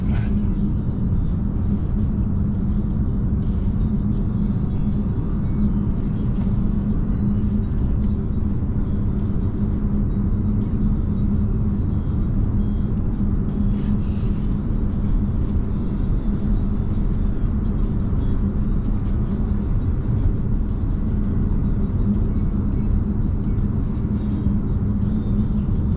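Steady low road rumble inside a Tesla cruising on Full Self-Driving through Colorado, an even, continuous drone of tires and cabin noise with no distinct events and no talking.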